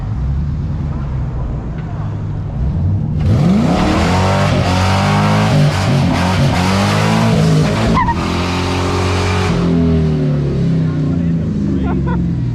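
A BMW M2 Competition making about 500 wheel horsepower revs hard and burns out its tires, a loud sustained engine roar with screeching tire squeal rising sharply after a quieter idle, close and continuous, with a voice speaking over it.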